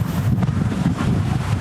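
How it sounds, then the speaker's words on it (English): Strong wind at sea roars over a sailboat in building conditions with big waves, a loud, continuous buffeting rush with heavy low gusting against the microphone. "The wind is definitely building up and so is the sea state."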